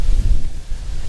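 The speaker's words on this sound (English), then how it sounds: "Pardon the wind out here, it's kind of bad this morning" Gusty wind buffets the microphone outdoors at a pioneer days show, giving low, rumbling, uneven roar with no voices over it.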